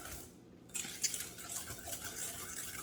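A spoon stirs thick fudge mixture in a pot, giving a steady, soft scraping and swishing that continues without pause at moderate closeness, with no voices.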